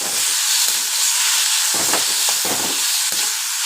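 Chopped onions and tomatoes sizzle steadily in a hot pan for a green gram gravy, a continuous loud hiss with a few soft stirring bumps and no voices.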